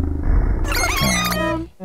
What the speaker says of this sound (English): This is the granular sound.